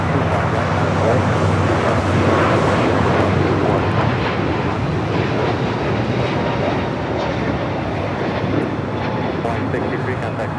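A jet airliner taking off from runway 25 right at LAX, a loud sustained roar of engines at full thrust rumbling steadily throughout, with radio talk heard alongside.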